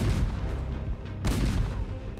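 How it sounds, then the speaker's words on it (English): Booming artillery cannon fire from a battle, deep continuous rumbling blasts with a swell of a fresh boom midway, dense and distant-sounding. "French artillery opened fire, trying to smash the ice with their cannonballs"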